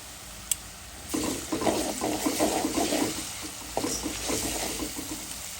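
Chopped onion frying in a pan with ginger and garlic just added, a steady close sizzle with scraping stirs in short bursts, no speech over it.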